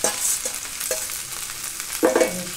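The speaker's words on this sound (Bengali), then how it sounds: "এবার আমি আলু পেঁয়াজ ভাজাটাকে মিশিয়ে দিই, আলু পেঁয়াজ ভাজা রেখে মিশিয়ে দিলাম" Fried potatoes and onions are stirred into cooked okra in a sizzling pan, with a few scraping strokes of a spoon over a steady frying hiss and no talk.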